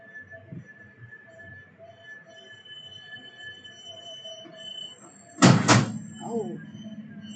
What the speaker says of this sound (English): The suitcase just like randomly fell over.